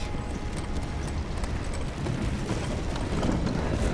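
A horse gallops steadily through Scadu Altus in Elden Ring Shadow of the Erdtree, its hoofbeats a dense, continuous clip-clop at a steady loudness, with no talking.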